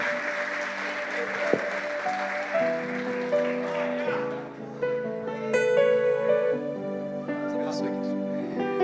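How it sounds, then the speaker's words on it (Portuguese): A church congregation applauds continuously in a lively patter at a ministry reopening service in Senador Canedo. Sustained musical tones ring over the clapping and a voice is heard speaking. "Aplauda bem forte o nome de Jesus nessa noite, o glorificando, o exaltando"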